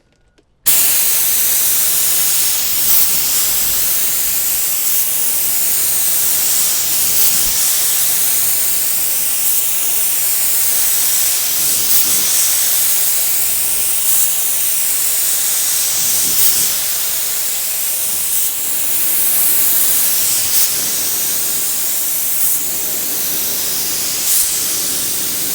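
A spray gun hisses loudly and continuously as lacquer goes onto a door, the rush swelling and easing in regular sweeps after a brief silent start.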